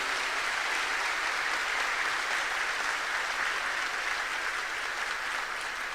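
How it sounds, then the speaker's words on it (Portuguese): Sustained audience applause of thanks fills a church Mass gathering, dense and steady at full strength throughout with no voices over it. "uma salva de palmas de agradecimento"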